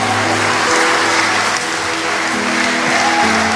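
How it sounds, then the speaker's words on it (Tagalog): A church congregation claps loudly for the Lord in a steady, wash-like roar of applause, with a faint tonal hum running beneath it. "palakpakan natin ng malakas na palakpak ang Panginoon."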